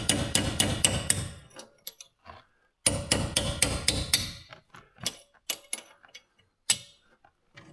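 Hammer blows on a wedge chisel drive out the inner bearing race of a Peugeot 508 rear wheel bearing: two sharp, rapid bursts of metallic strikes, then slower, scattered taps.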